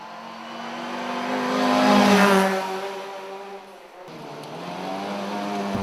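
A Ford Cortina rally car styled after 1960s originals drives past at a historic performance rally, its engine revving up to a peak, dropping off, then pulling hard again.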